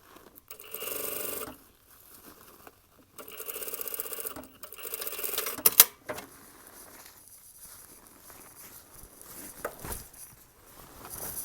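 A sewing machine stitches a leather jacket seam in several short bursts of rapid mechanical whirring, separated by pauses with faint handling noises and clicks.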